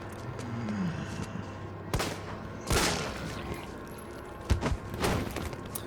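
Gunshots in Resident Evil 3 Remake VR ring out as four or five sharp, loud cracks spaced a second or so apart, with one quick double shot near the end and no talking.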